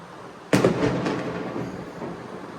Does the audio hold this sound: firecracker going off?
yes